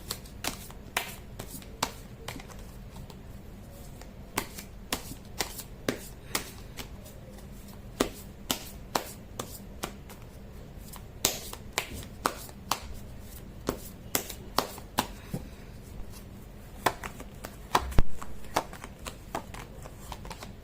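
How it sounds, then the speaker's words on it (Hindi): Tarot cards shuffled by hand, a steady run of crisp riffling snaps and clicks close by for about twenty seconds, with no talking. "कर लेती हूँ कार्ड की शफलिंग।"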